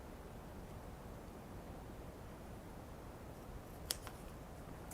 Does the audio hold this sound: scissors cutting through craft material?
yes